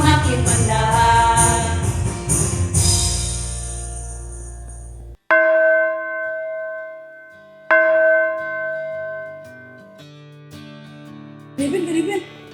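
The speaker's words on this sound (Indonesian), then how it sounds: "Itu bunyi lonceng." A church bell strikes twice to mark the start of a Sunday school service, each stroke ringing out with a long, slowly fading tone after singing cuts off, with some voices near the end.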